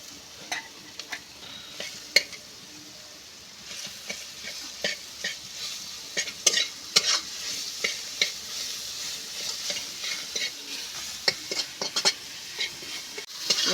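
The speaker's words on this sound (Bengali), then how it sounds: "এবার আমি এইভাবে নেড়ে চেড়ে ভালো করে মাশরুমটা আমি ভেজে নেব" Mushrooms fry with onions in a kadai while a spatula stirs and scrapes, giving repeated sharp clacks over a steady close sizzle.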